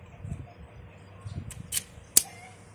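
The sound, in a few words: Audi wiper blade clicking into place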